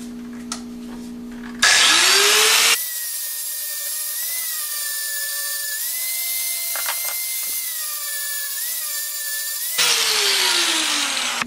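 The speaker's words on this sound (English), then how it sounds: "now with my angle grinder, I'm gonna sand down the edges real quick" An angle grinder sands the edges of wooden pieces for theater prop Torah scrolls, spinning up with a loud high whine and holding a steady drone for about seven seconds before winding down.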